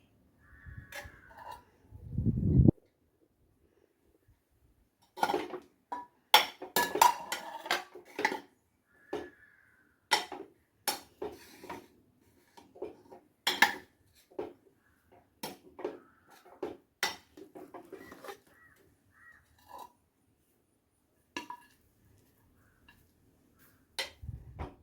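Rice and chicken biryani being mixed in a pressure cooker, with a spoon clicking and scraping against the pot in scattered, irregular taps, close and fairly soft, with no talking.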